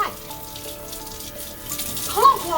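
Hot water runs from a tap in a wooden tiny house RV, a soft steady splash that swells louder near the end as a voice speaks briefly over it.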